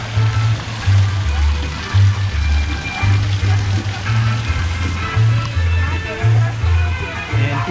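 A small ornamental waterfall feature in Pinchote, Colombia sends up a steady close splash and trickle of falling water, with a voice talking over it throughout.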